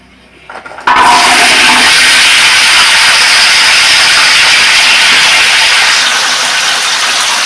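Small onions go into about 200 ml of hot oil for a mutton offal curry. After a quiet start, a sudden loud, rushing sizzle bursts out and stays strong and even to the end, with no talking.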